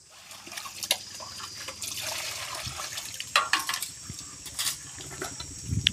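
Water runs and trickles while bowls are washed, with splashes, drips and clinks of dishes nearby; the flow carries on steadily throughout, with no talk.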